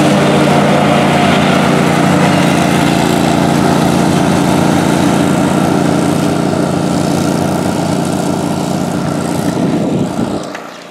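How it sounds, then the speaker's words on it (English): A lawn mower fitted with a wing on the back, its engine roaring loud and steady close by before cutting off abruptly at the end. "but that lawnmower has got a wing on the back of it."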